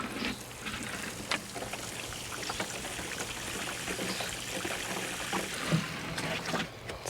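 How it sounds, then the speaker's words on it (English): Water poured onto the roots of a newly planted Royal Cascade clematis in garden soil, a quiet trickling and splashing with faint knocks and rustles, soft and close. "I'm going to put some water on to really get those roots nice and soaked and settled down in the ground"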